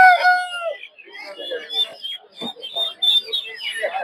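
Chickens and chicks at a busy Sunday poultry market. Bursts of clucking and shrill chick chirps come close by in short overlapping calls, with a brief crowing note at the start.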